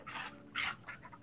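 Dogs scuffle close underfoot while wrestling, with soft breathy panting and a few faint whimpers in short bursts over about a second.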